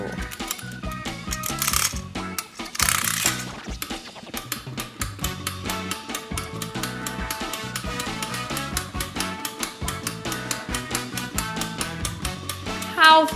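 Vintage Blic tin wind-up penguin toy running after winding, its spring mechanism giving a fast, continuous stream of close metallic ticking and whirring that lasts throughout, with brief rustling early on.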